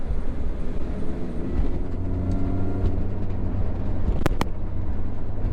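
A mini car drives at speed, a steady low road rumble and engine drone filling the cabin from start to finish, with a couple of brief sharp clicks near the end.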